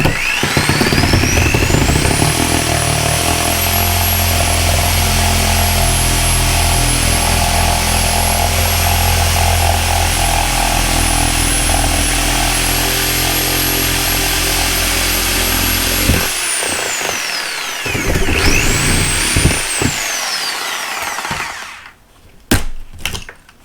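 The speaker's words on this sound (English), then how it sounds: "I'm using the Sawzall, and we're going to cut one right now." Sawzall reciprocating saw cutting off a rotten bottom plate, a loud continuous buzzing drone that runs steadily for about sixteen seconds, then stops, followed by a shorter burst and some clunks.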